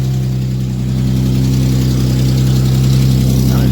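A 40th Edition Ford Mustang idles steadily close by, a low, even engine rumble with a dual exhaust and a faint ticking, running alone without talk.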